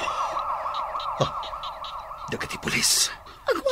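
A police car siren wails in a repeating up-and-down pattern, close and loud, with bursts of shouting and commotion cutting in near the end.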